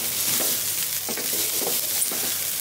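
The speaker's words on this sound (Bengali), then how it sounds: "সুন্দর করে ভেজে নিতে হবে।" Ginger paste frying in a pan for a Bengali dish, a steady sizzle with soft scraping stir strokes repeating every half second or so, close up, no voices.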